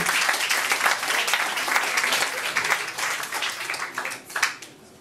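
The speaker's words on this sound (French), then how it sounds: "Charles, on l'applaudit, mesdames et messieurs, Charles Herbier." An evening show audience applauds as performer Charles Hermier is introduced, a dense, steady wash of clapping that thins out at the end.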